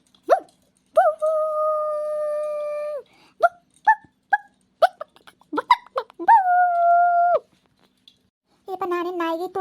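A woman imitates a dog with her voice, giving long drawn-out howl-like whines and short yelping barks in an uneven series, close and loud, with pauses between bursts.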